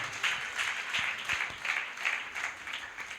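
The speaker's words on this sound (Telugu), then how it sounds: "చప్పట్లు కొట్టి దేవుని నామాన్ని గనపరుద్దాం." A church congregation clapping together during a sermon, a steady rhythmic round of hand claps at a moderate distance, fairly soft and continuous for a few seconds with no talk over it.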